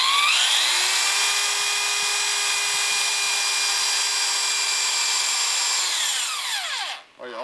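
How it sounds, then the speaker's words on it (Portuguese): Electric drill spinning to twist and wind wire: a steady high motor whine holding constant pitch for about six seconds, then spinning down and falling in pitch as the trigger is released, close and loud with no talk. "com a furadeira, fica um serviço mais bem feito"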